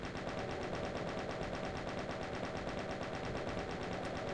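Rapid, continuous gunfire from a first-person shooter on a custom Doom map, a dense unbroken rattle of shots at steady volume.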